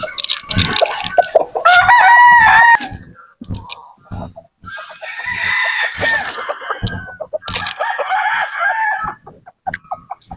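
Near and loud, a rooster crows repeatedly over steady clucking from a flock of chickens and chicks on a farm.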